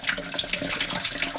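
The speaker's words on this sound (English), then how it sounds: "who's flushing the toilet?" Toilet flushing in a house with 75-year-old plumbing, water rushing and running through the pipes in a steady, fairly loud wash with a gurgling texture throughout.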